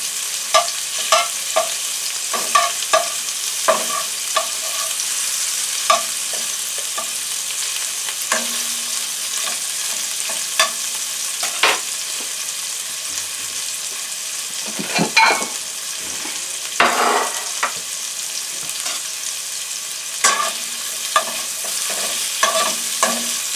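Shrimp sizzle steadily in a hot pan as they are flipped, a continuous bright hiss broken by scattered clicks and scrapes of the utensil, with no talking.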